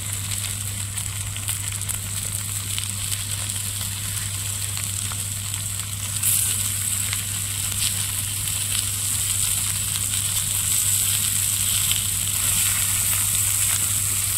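Chicken liver with gizzards, washed clean, sizzles in a hot pan for a pudina chicken liver dish, a steady broadband frying hiss that swells slightly partway through, with a constant low hum underneath.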